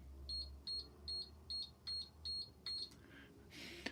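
A buzzer in a simple paperclip switch circuit gives seven short, even electronic beeps in a steady rhythm, quiet and close, over a low background hum, followed by a soft rustle.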